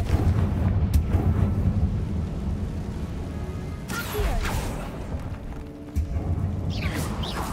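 A Confringo fire spell explodes in Hogwarts Legacy, with loud, rumbling blasts and crackling bursts layered over a continuous, heavy roar of game action.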